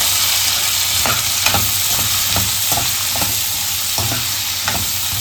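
Onions, salted, sauté in a pan for a homemade country-chicken curry, giving a steady loud sizzle broken by periodic scraping stirs of a spoon, with no voices.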